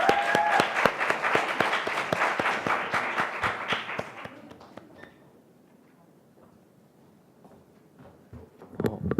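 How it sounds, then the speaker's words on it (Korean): Audience applause for a high school contestant at a youth speech contest: loud, dense clapping for about four seconds, then it dies away into a quiet hall with only faint rustling. "연설을 박수로 들어보겠습니다."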